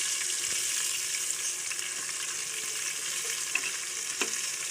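Onions fry in a pan with a steady, bright sizzle, and a few faint stirring scrapes come through near the end.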